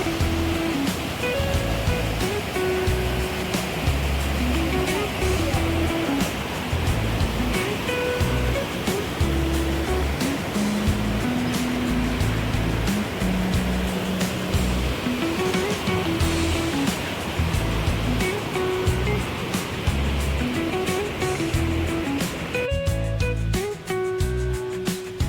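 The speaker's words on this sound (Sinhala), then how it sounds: "මෙතන තිබ්බ ලොකු වතුර ඇලක්." Water rushes at Bomburu Ella waterfall in Sri Lanka as a steady, dense roar that holds for the whole stretch without pause, with no voices.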